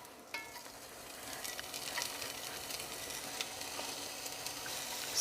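Chopped onion sautés in cooking oil in a pot over medium-low heat, a soft continuous sizzle with occasional light crackles and faint stirring scrapes, close but quiet.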